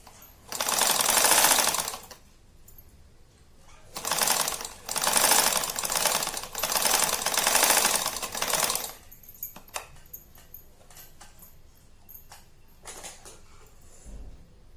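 A sewing machine stitches a straight seam on a pair of pants in several loud, rapid mechanical bursts separated by pauses, followed by scattered quieter clicks and handling noises.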